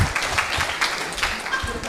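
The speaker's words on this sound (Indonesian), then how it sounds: "Kasih tepuk tangan dulu untuk Bung Rocky di depan" A student audience at an Indonesian campus talk applauds Rocky Gerung, a short, steady burst of clapping with scattered louder claps and murmuring.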